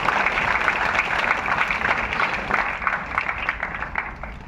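An audience claps loudly and briskly together in a dense, unbroken burst of applause that fades slightly toward the end.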